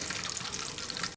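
Whole spices, bay leaf, cardamom, cloves and cinnamon, sizzle steadily in hot oil for tempering, a continuous close hiss and crackle with no voices.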